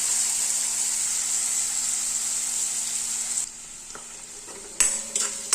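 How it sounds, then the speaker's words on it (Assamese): Mushrooms sizzle in a hot pan with a steady, close frying hiss that suddenly quiets partway through, followed by a few light clinks of a utensil against the pan. "মই সদায় মাছৰুমটো আগত অকণমান ভাজি লওঁ, অকণ ফ্ৰাই কৰি লওঁ"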